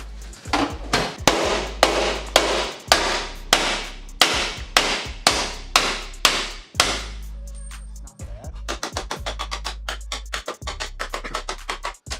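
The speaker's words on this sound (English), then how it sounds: "knock that off there with a hammer" Hammer blows knock a jack point off the frame of a 2nd-generation Toyota Tacoma, a long run of loud, close metallic strikes in steady rhythm, with a brief pause before a quicker, lighter series of taps.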